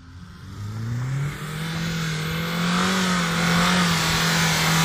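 A car engine revs steadily and climbs in pitch while drifting, sustained and fairly loud, with tire and road noise underneath and no voices.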